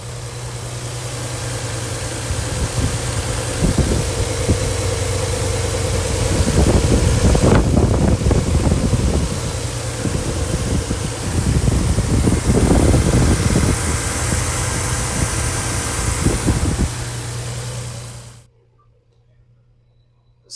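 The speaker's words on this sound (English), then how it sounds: "So we'll cruise on in and get a good listen to the engine." A 1990 Nissan 300ZX 2+2 with a 5-speed manual idles with a steady low hum, recorded up close alongside wind buffeting and fan noise, before cutting abruptly to near silence at the end.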